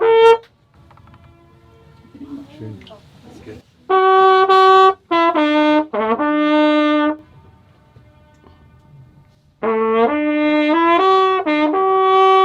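A jazz performance echoing across the mountain valley at King's Lake in the German Alps: bright, sustained horn-like tones come in three loud bursts with quieter gaps between, and a brief spoken voice appears in a lull.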